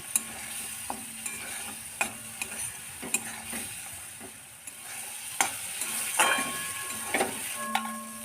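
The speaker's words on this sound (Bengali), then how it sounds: "এখন পোস্ত আর বাদাম বাটাটা দিয়ে আবারও মশলার সাথে একটু সময় কষিয়ে নিচ্ছি" A paste of ground poppy seeds and cashews cooks down with spices in a pan for a pointed gourd curry, soft sizzling under repeated spatula scrapes and taps, close and unhurried, without speech.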